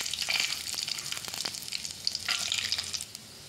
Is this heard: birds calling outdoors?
no